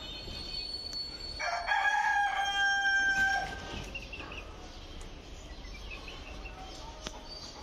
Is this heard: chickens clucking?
yes